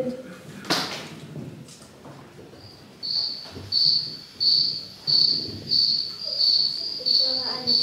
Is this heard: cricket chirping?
yes